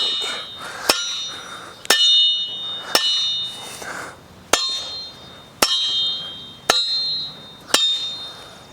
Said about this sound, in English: Let the hammer do all the work.